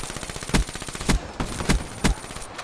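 Rapid automatic gunfire from Call of Duty Black Ops 3, a continuous rattling burst punctuated by four or five louder, heavier shots at roughly half-second intervals.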